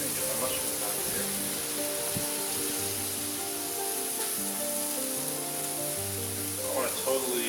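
Mushrooms and vegetable skewers sizzle steadily on a very hot, slightly greasy grill, a continuous close frying hiss that runs throughout with faint low hum beneath and no talking.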